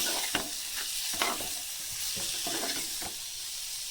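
Prawns (chingala) are stir-fried in hot tempering, giving a constant bright sizzle broken by several sharp scraping stir strokes, with no talk.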